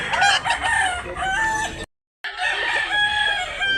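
A three-year-old White League rooster crowing close by at a rooster sale in Cebu, clucks and crowing over a busy background, with a brief dropout partway through.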